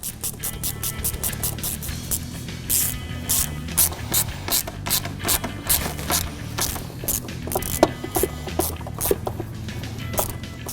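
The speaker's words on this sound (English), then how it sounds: "And tighten up all the clamps." Hose clamps being tightened on a cold-side intercooler pipe kit for a 2011-2014 Ford F-150 3.5L EcoBoost, with steady rapid ratchet clicking running throughout, close and fairly loud, and no talking.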